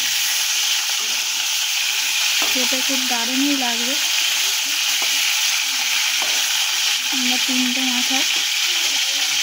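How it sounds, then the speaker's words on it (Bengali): Three hilsa fish heads fry crisp in hot oil, a steady loud sizzle running throughout while someone talks over it in short phrases. "এটা ভালো মচমচে করে ভেজে নিতে হবে আমাদের মাথাগুলোকে।"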